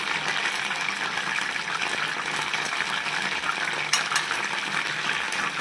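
Coriander leaves are roasted in a pan, giving a steady, close hiss and crackle throughout, with one brief clink partway through.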